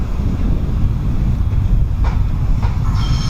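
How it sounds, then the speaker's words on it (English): A local shuttle train running at Leamington Junction, a loud close rumble of rolling wheels with wind buffeting, light clatter and a brief rising squeal near the end. "This is what it's like when it gets down to the Leamington end at Leamington Junction."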